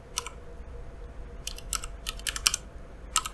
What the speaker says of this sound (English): click on the address bar here and type that web address